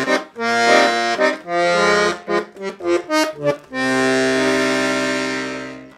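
A Weltmeister Juwel piano accordion's 72-bass side on its single bass register: a series of close, rich reed bass notes and chords pumped in a choppy rhythm, ending in one long sustained chord, with no talking.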